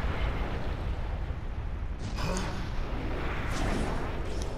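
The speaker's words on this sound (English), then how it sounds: "That's a really big explosion." A huge explosion in the video game Naruto Shippuden Ultimate Ninja Storm 4 fills the scene with a dense, sustained roaring rumble, with bright crackling bursts layered on top partway through; loud and continuous, with no voices.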